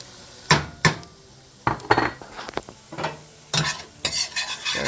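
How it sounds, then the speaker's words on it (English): Seasonings stirred into chicken pot pie filling in a pan, a series of sharp utensil scrapes and clinks against the pan in irregular bursts over a faint sizzle, close up with no talking. "Stir that around."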